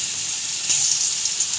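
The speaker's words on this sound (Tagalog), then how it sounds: "Mainit na yan. Kaya maglagay na tayo ng maraming bawang." Plenty of garlic hits hot cooking oil, giving a steady bright sizzle that swells slightly as it settles, close and alone with no talking.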